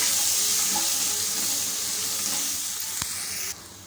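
Green chili and grated ginger sizzle steadily in a hot oiled pan while being stirred, a close, continuous hiss with faint scraping, fading slightly and ending in a soft clink near the end.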